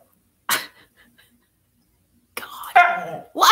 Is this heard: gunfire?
no